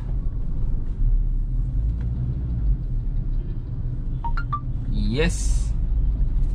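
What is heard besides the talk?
Maruti Ritz petrol car driving through a narrow gap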